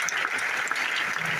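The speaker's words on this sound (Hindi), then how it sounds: "सबसे पहले ना अपने आप के लिए एक ताली बजाइए" A hall audience at a direct-selling business seminar claps for itself, a dense, steady wash of applause from many hands with no voices over it.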